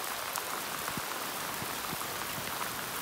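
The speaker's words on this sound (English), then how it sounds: "Pouring down rain, pouring down rain." Heavy rain pouring down over a garden, a dense, steady hiss with scattered heavier drops hitting nearby surfaces, constant and close with no voices.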